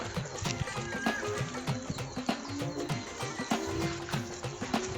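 Rhythmic clip-clop of horse hooves on a hard surface, steady and fairly close, with soft snorting-like sounds mixed in.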